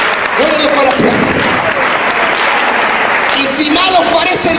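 Church congregation applauding in praise during a Spanish-language sermon, loud continuous clapping with voices and cheers carrying over it from start to finish.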